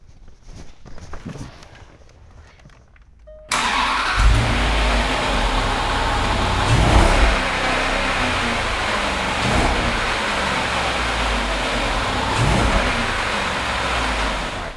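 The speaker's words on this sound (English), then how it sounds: "rev the engine, let you hear it." A warmed-up 2013 Range Rover Sport HSE engine, quiet at first, then bursts into a loud sustained roar with several swelling revs rising and falling.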